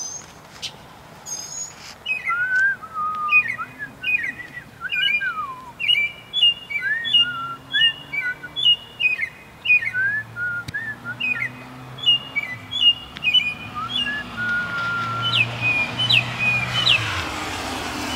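Unseen birds in a dark, dense tree at night give repeated sharp, high chirps in quick clusters, loud and close, with softer lower calls and faint background noise between them.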